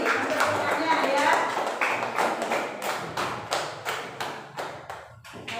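Classroom applause for a student group, a burst of clapping from many hands that thins into separate claps and taps toward the end, moderately loud and close.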